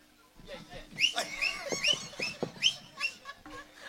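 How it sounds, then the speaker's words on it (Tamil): Shrill whistling from an audience member at a live Tamil Valli Thirumanam stage drama, repeated short rising whistles over a murmur of voices and background noise, with a speaking voice in the mix. "ஐயா அந்த விசில் அடிக்கிற கொண்டு போய் ஏதாவது பண்ணி விடுங்க."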